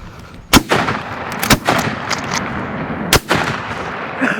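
Three sharp shotgun blasts ring out during opening-week bird hunting in Maryland, loud and close, spaced irregularly about a second apart, with rustling and outdoor noise between shots.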